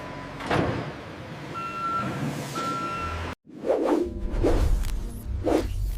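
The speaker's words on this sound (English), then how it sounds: "Loaded onto temperature-controlled trucks for transport." A temperature-controlled truck hauling goods for transport, with reversing beeps, a whooshing pass and sliding or rattling thuds; a sharp cut midway leads into louder nearby clanks and rumble, no voices.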